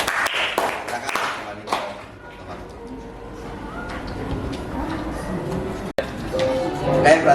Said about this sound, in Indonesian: kita beri aplaus yang luar biasa